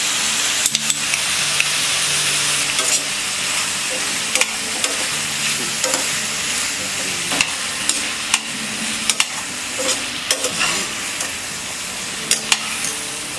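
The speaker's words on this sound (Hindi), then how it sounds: "लो फ्लेम में इसे फ्राई करेंगे।" Bottle gourd sabzi with salt and turmeric fries in a pan over low flame, a steady close sizzle and hiss running throughout, broken by repeated scraping clicks of a spoon stirring against the metal.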